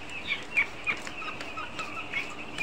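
Fourteen-day-old farm chickens give repeated high peeping clucks at moderate distance over a quiet background, with no talking.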